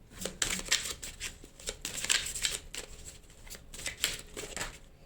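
A deck of tarot cards is shuffled close up in repeated riffling bursts, soft papery flutters coming every half second or so without pause.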